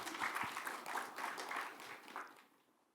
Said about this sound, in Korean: 우리 힘차게 하나님께 영광의 박수 돌립니다.